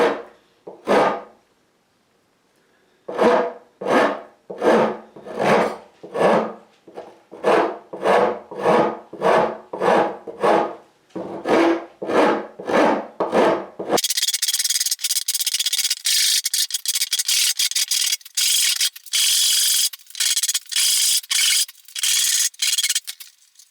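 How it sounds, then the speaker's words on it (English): A hand rasp shapes the profile of a wooden guitar neck for a Telecaster-style build: rhythmic back-and-forth strokes in close, loud bursts, then a denser run of rapid, harsher rasping without any talk. "so I'm just going to go in with a rasp."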